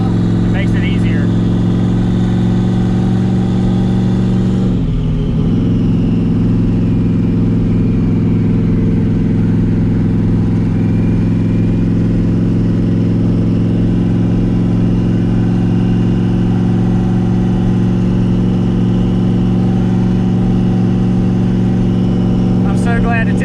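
Turbocharged LSX-swapped Mazda RX7 with a Powerglide automatic, a loud, steady engine drone heard from inside the car while driving, with a brief dip around a gear change and talk over the engine.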